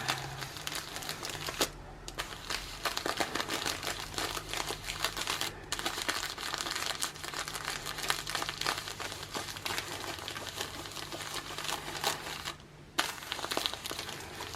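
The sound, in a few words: butcher paper crinkling while pressed onto plush pumpkin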